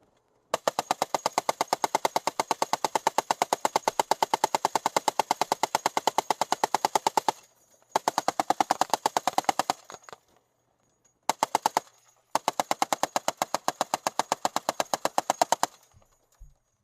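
An M2 heavy machine gun fires in combat footage, loud sustained rapid bursts of evenly spaced shots broken by brief pauses and a longer gap before a final burst, with no talk.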